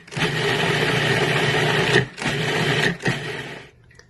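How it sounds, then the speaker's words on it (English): A food processor pulses a date and tamarind loaf mixture in three bursts of steady motor whirring, the first long and the next two shorter, close and loud with brief gaps between them. "I'm just going to go ahead and pulse it for a few seconds until it gets a little mixed"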